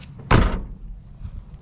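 The passenger door of a donor truck being stripped for parts shuts with a single loud, close thud that rings out briefly and fades into quiet background noise.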